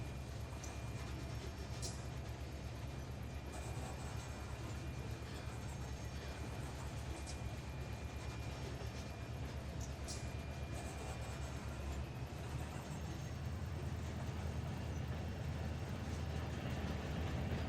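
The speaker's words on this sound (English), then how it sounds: "That's definitely, that's a sizable train." A freight train in Run 8 Train Simulator gives a low, steady rumble and drone at a quiet level, with faint mechanical hum and occasional light clanks over the whole stretch.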